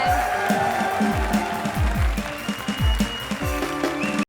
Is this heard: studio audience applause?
yes